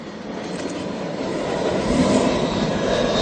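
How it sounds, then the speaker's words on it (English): An aeroplane passes overhead as a broad, steady roar that swells gradually and grows louder toward the end, with no speech. "there's an aeroplane coming overhead"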